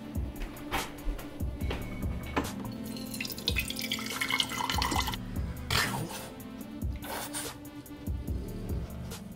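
A kitchen tap runs water into a sink, a steady splashing flow with some clinks and drips, close and without talk.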